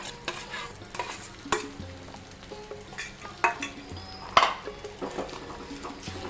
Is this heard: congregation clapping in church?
no